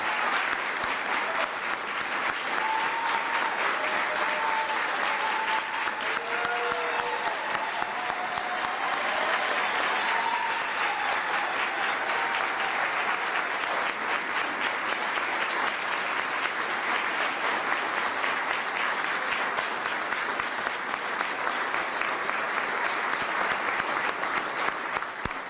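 Sustained applause from a large audience at a Presidential Medal of Freedom ceremony, steady and loud throughout with a dense crowd clapping texture and no talking.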